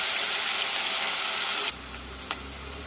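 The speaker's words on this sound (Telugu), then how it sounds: "ఉల్లిగడ్డ కొంచెం వేగాలి నూనెలో" Onions fry in oil, a close, bright sizzle that runs steadily for a couple of seconds before cutting off abruptly, leaving a low hum and one brief soft tap.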